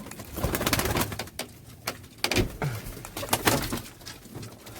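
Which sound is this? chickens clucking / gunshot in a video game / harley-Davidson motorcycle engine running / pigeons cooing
pigeons cooing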